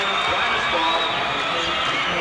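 An estimated 6,500 fans pack the War Memorial for the 1986 Section V Class AAA boys basketball championship between Aquinas and Franklin. They produce a dense, unbroken roar of cheering that holds loud and steady throughout.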